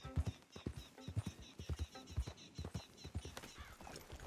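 A horse in Red Dead Redemption II trots with a run of close hoof clops and gives a short neigh partway through, set against a faint game ambience.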